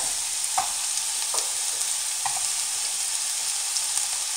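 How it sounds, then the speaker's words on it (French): Spicy harissa merguez sausages grill in a dry pan with no oil, giving a steady, even sizzle with a few faint scraping touches, close and continuous with no talk. "Entre temps, je fais griller les merguez."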